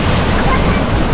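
Sea surf breaking along a public beach in Sorsogon, a dense steady wash of waves with wind buffeting the microphone, loud and close throughout.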